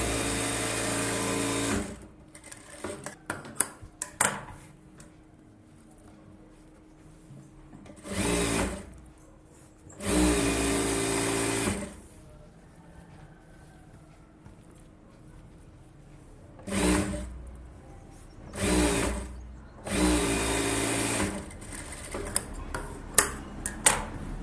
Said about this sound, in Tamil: பெரட்டி விட்டு லைனிங்கில் தையல் போட்டுக்கோங்க.